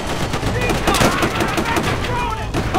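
Sustained machine gun fire in Call of Duty: World at War, a dense, continuous rattle of rapid gunshots close and loud throughout, with the chatter of battle layered underneath.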